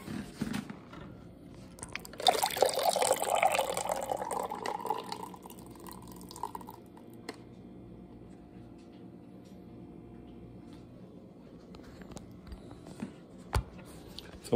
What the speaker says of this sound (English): I'm gonna go to pour it.